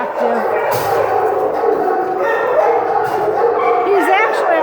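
A stubborn, very active husky at a county animal shelter yips and whines in high, wavering cries over steady background noise. Brief human voices can be heard nearby.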